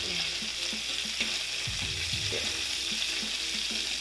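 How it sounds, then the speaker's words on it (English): Strips of bacon fry in a stovetop pan, giving a steady bright sizzle with occasional pops and a few scraping stirs as the pieces are turned, with no talking. "Go to give your bacon a flip."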